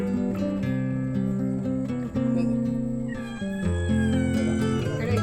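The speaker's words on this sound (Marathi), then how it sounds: "मांजर आले" A cat yowls loudly in long, drawn-out meows, one continuous wailing cry after another, close by.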